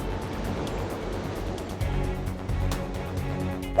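Heavy ocean waves surge and crash around ships at sea in monster swells, a continuous loud roar of churning water with wind noise and a few sharper surges toward the end.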